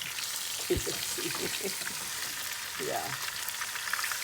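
Chicken frying for Murg Mussallam while hot oil is spooned over the top, a continuous hissing sizzle with a few soft splashes, as someone speaks briefly over it.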